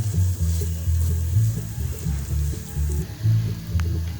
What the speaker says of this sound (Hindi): इसको अच्छी तरीके से भून लूँगी।